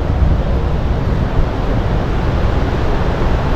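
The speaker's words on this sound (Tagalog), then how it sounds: "Malakas yung hangin, malamig dito, malamig." Strong, cold wind at Glacier Bay, Alaska, roars as a steady, loud, close rumble buffeting the microphone, with no talk.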